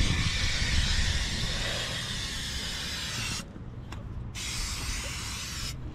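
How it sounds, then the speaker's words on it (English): Protective clear coat, a rust-protecting finish, hisses out of an aerosol spray can onto rusty metal treated with etch, a loud steady spray broken by two short pauses between passes. "here's my last thing, a protective clear coat"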